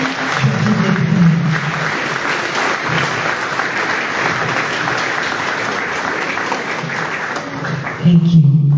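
Loud, sustained applause from an audience at the official launch of a ministry's five-year strategic plan, dense clapping throughout with a voice briefly heard underneath at the start and end.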